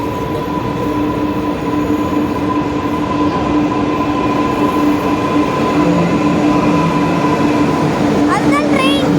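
A metro train pulls into an underground platform, a steady loud rumble with tonal hum and a brief wheel squeal near the end, under a background voice.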